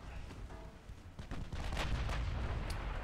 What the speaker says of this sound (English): All it took was one salvo.